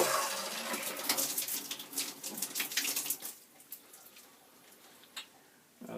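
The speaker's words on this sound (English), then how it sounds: "we're going to go ahead and bleed all the extra pressure out of the tank." Air and water hiss out of a residential water heater tank as its pressure is bled off, a steady broadband rush that fades and thins toward the end, with a brief spurt near the close.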